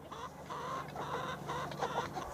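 Several chickens cluck and chatter softly at a farm in central New York, a continuous flock murmur with intermittent louder clucks and no talking.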